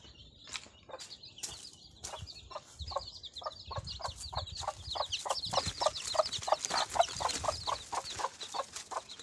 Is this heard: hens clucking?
yes